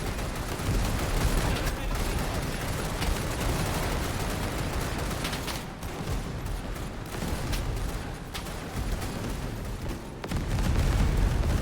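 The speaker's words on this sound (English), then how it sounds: "What a bombing run." Explosions from a bombing run and dense gunfire in the game Over the Top, a continuous roar of overlapping blasts and rattling shots that stays loud throughout with brief dips.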